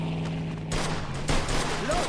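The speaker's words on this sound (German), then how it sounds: "Okay, jetzt geht doch eine Schießerei." Gunfire rattles during a shootout in the video game Mafia 2, with several loud bursts over steady background noise.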